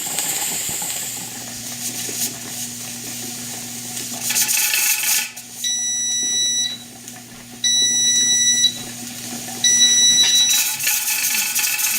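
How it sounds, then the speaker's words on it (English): A kitchen timer beeps in three separate bursts of rapid high beeps while pressure canning cooked venison, over the steady hiss and rattle of the pressure canner's jiggling weight. "Okay, timer off."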